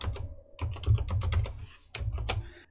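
Code being typed on a computer keyboard: a rapid run of close, crisp keystrokes in two bursts separated by a short pause, with no talking.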